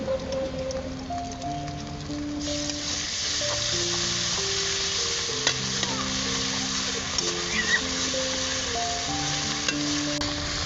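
Onion sizzles and fries in a pan with ginger-garlic paste, a steady hissing crackle that grows louder after the paste goes in, with a melody playing underneath.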